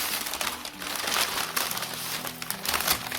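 Paper packing wrap crinkles and rustles while a manga package is unpacked, in close, busy bursts of crumpling that rise and fall over a few seconds, with no talking.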